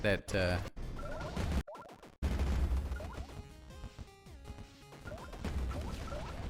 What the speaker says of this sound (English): that laser just smashed the dude at the bottom